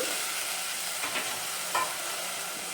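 Egg curry with hyacinth beans sizzles in a pan after water is added, a steady frying hiss broken by a few soft scrapes of a spoon as it is mixed, with no talking.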